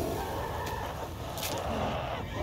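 Birds squawk and cluck in the creepy manor of the Devour horror video game, a loud, steady, rooster-like racket that fills the whole stretch with a couple of sharper bursts.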